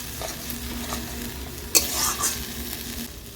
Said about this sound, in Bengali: সব কিছু ভালো করে নেড়ে চেড়ে নিচ্ছি।